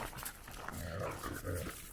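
Dogs pant and growl outdoors on a pitch-black evening, a close, rough, continuous breathy rumble with low growling over a noisy background.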